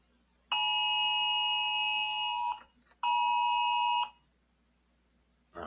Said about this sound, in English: that was the Amber Alert on my phone